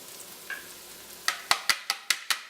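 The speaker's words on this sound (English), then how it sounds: "I'm going to add my tomatoes that I de-seeded earlier" De-seeded tomatoes land in a pan of sweated mirepoix with translucent onions, then a run of six sharp, evenly spaced scraping stir strokes follows after a brief faint sizzle, close and fairly loud.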